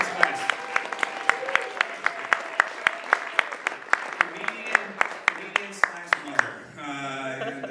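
A comedy competition audience applauds comedian and judge Iris Weiss, a dense burst of close clapping with a few sharp individual claps that fades near the end as a voice comes in.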